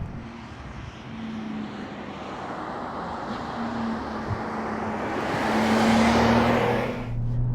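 A 2021 Porsche 992 911 Turbo cabriolet with four-wheel drive and a rear engine drones steadily along the street, its engine note swelling and rising toward the end before easing off, heard from inside the open car.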